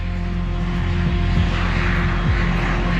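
Aircraft engine droning steadily in flight aboard the NASA Armstrong research plane on an eclipse science mission, a loud continuous hum with tonal propeller-like harmonics and no voices.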